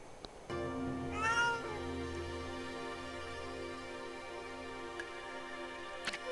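Cat meowing in the video game Okami: a single drawn-out meow against a steady synthetic music bed, followed by a few faint clicks, clear and up front.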